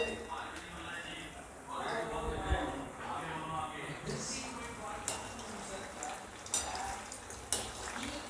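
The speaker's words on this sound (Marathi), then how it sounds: "आता इथे गॅसची फ्लेम मी हाय करत आहे आणि हाय फ्लेमवर आपण याला तळून घेऊया।" Soyabean pieces frying on a high gas flame, crackling oil with utensil clinks and stirring scrapes under a person talking, close by.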